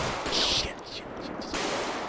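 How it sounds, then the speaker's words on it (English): Bursts of gunfire in a GTA 5 police patrol shootout, dense and crackling against a noisy background, with a loud cluster of shots early and more shots trailing off. "Shots fired."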